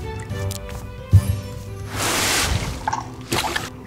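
A grease spell is cast in the video game Magicka, producing a wet, squishy splatter with a sharp onset followed by a slick sloshing wash and a few drippy bursts, fairly loud and without speech.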